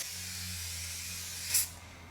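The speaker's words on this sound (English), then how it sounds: "So we're going to go ahead and put some more spray down." Aerosol can of chemical spray hissing steadily onto a spring steel sheet to strip PEI and glue, a soft continuous spray rising into a brief louder burst near the end, close and alone.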